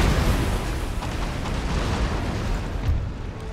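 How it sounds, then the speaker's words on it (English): Booming artillery salvos from an Empire: Total War battle, a dense rolling wash of cannon fire and blasts that stays loud and continuous with no pauses. "our opening salvos of artillery seem to be well done"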